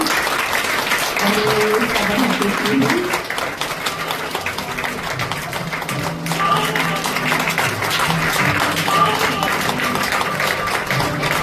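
Sustained audience applause fills a Brahma Kumaris gathering hall in Goregaon West, steady dense clapping from a crowd throughout, with faint voices beneath.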